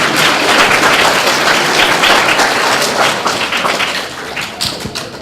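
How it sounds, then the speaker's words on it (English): An audience at a Sunday school talk claps for the school principal, producing loud, dense, sustained applause that thins slightly toward the end. "Give Principal Renee a round of applause."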